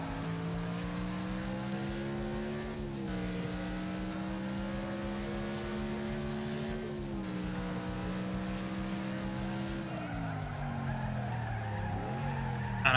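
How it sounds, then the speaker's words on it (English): A car drifts around a dirt race track in the Wreckfest video game on PS5, with a steady droning engine and a long continuous tire skid whose pitch dips and rises through the slide, loud and close. "That was a drift."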